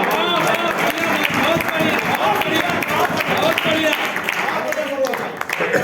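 Applause and crowd noise from the audience at a poetry recital event marking Atal Bihari Vajpayee's birth anniversary, loud and continuous with a dense roar of clapping and voices mixed in.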